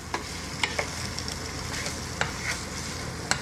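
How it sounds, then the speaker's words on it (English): Sausage frying in a pan for gumbo, a dense steady sizzle punctuated by a few sharp utensil clicks and scrapes against the pan, close and unaccompanied by voices. "here's the sausage cooking up"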